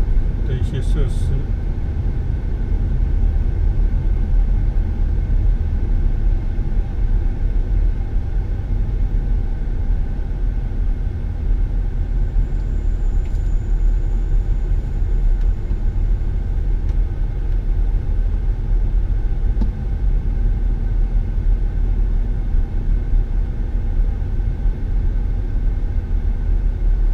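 Slow traffic jam inside the Xingguang road tunnel in Guangzhou gives a steady, enclosed low rumble of idling and creeping cars, with a faint passing whine partway through and no voices.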